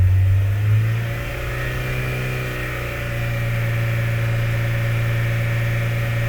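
A car engine holds a raised, steady drone near 3,000 RPM after a short swell, a loud continuous hum with no talk over it.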